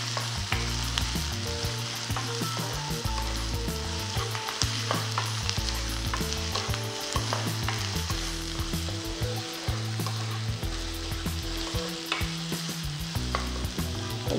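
Dried red chillies fry in hot oil with a loud, dense sizzle and constant crackling pops up close, under a low droning hum that wavers throughout.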